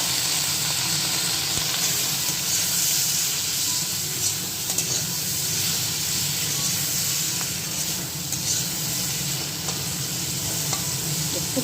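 Food fries in a hot pan in a home kitchen, a steady close hiss and sizzle with faint stirring scrapes and no talk.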